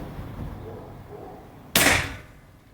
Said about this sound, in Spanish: unos tiros para que estabilice lo que viene siendo el regulador que le acabamos de mover